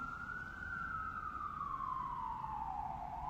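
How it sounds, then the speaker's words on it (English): A siren wails steadily in a slow falling sweep, moderately distant, over constant low city traffic rumble in New York. "the soundscape of New York. Sirens. Every fucking 5 seconds."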